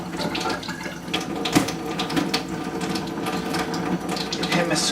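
A makeup brush is rinsed under a running tap, giving a steady close hiss of flowing water with small splashes and squishing throughout.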